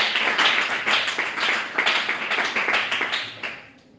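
Church congregation applauding together, with steady, dense hand clapping that carries on for a few seconds and then fades out toward the end.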